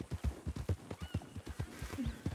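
Video game horse hooves from El Rancho RP clip-clop in a quick, even rhythm, faint and somewhat distant, with no voices.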